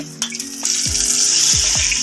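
Hot oil tempering (tadka) hisses and sizzles loudly as it hits a pot of cooked lentils (dal), a steady crackling fry with a few soft clanks of utensils.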